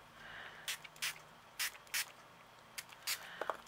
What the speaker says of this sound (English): I'm just going to give them a spritz